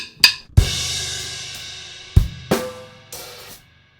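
A drum kit plays a shuffle bar, with sharp snare cracks and a ringing open hi-hat over low thumps: a few spaced hits that each decay, then fade out near the end.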